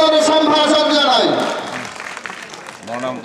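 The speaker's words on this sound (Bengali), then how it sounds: "আমরা তাকে করতালির মাধ্যমে সাদর সম্ভাষণ জানাই" Audience at a Jamaat member conference claps in welcome for a guest, a scattered patter that rises as a voice fades, with speech heard at the start and end.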